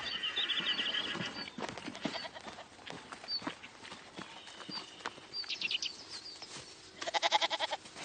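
Goats bleat repeatedly at close to middle distance, with horse-like whinnies and a few soft hoof clops mixed in, in a farmyard setting.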